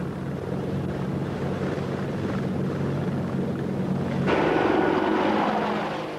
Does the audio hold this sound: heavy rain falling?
no